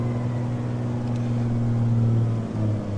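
Simulated Airbus jet engine spooling up in Microsoft Flight Simulator 2020 at Long Beach Airport, a steady loud low hum with strong tonal drone that holds throughout and dips slightly near the end.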